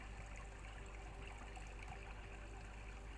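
Steady flowing water from a waterfall or stream, a continuous even rush with a low rumble, faint and without any voices.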